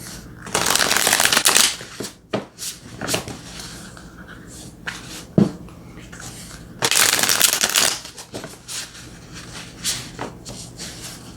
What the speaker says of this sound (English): Let's get some tarot.